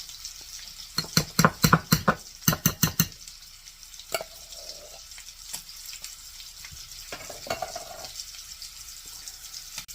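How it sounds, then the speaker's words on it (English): A spoon scrapes and stirs thick refried beans in a bowl, a quick burst of clicky strokes early on, then scattered softer scrapes against a faint background hiss. "put them in a bowl and kind of stir them up"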